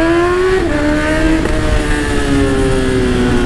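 A Honda CB1000 motorcycle revs and accelerates nearby, a loud, steady engine drone with rising pitch and brief shifts in tone.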